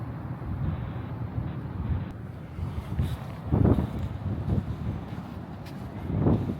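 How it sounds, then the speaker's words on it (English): Low, rumbling wind buffets the microphone steadily at Big Stump Beach on the central Oregon coast, with stronger gusts swelling twice near the end; no voices. "it is windy as the dickens out here"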